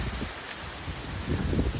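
Storm wind during a rainstorm, a dense, roaring rush close to the microphone that swells louder toward the end, with no voices.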